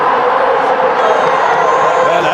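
Dense, steady roar of a huge cricket stadium crowd at an India vs New Zealand match, loud and continuous with a broad wash of cheering and no clear breaks.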